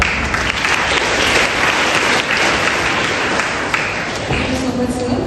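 Strong applause fills a school hall during a Rabindra Jayanti tribute event, many hands clapping loudly and continuously from start to finish with a faint crowd murmur underneath.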